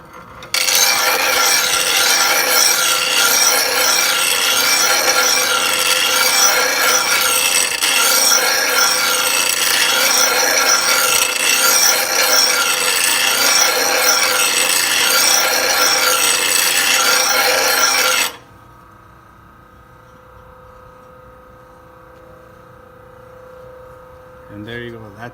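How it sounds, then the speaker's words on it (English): A Bradley blade grinder's stone sharpening a blade makes a loud, steady grinding rasp that runs continuously for about eighteen seconds, then cuts off, leaving only a faint motor hum. "you have to go a few more times to grind it to get this here sharpened"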